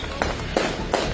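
Fireworks set off at a celebration pop three times in a quick, evenly spaced series over a steady background rumble, fairly close and sharp, with no talk.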